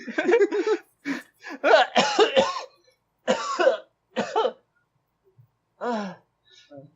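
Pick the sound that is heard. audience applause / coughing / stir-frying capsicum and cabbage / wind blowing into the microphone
coughing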